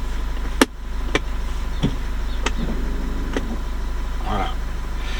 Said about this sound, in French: je vais désactiver mon frein électrique